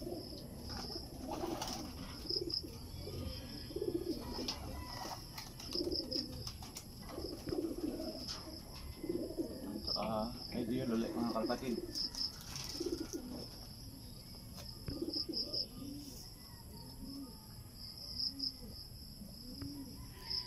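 Racing pigeons coo repeatedly at a loft arrival stop during a race, soft throaty calls recurring under a steady high insect-like drone and faint background noise.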